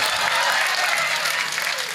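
Students at an inter-collegiate sports meet in Mangalore clap in a steady, dense wash of applause lasting throughout, with crowd murmur mixed in.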